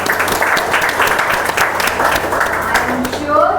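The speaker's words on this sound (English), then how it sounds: "big round of applause." Audience at a student valedictory function for a spoken English class breaks into steady, dense applause, many hands clapping loudly and continuously throughout, with a brief voice surfacing near the end.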